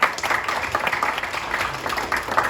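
Brief applause from a small audience at a tech careers talk, a steady patter of clapping running throughout the short stretch at fairly close range.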